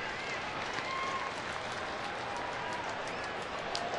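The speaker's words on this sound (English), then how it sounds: "That's what the fans are cheering for." Baseball fans in a Texas stadium cheer during a Toronto-at-Texas game, a broad, continuous crowd roar mixed with scattered clapping that stays level and dense from start to finish, with a faint voice under it.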